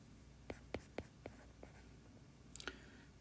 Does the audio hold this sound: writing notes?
yes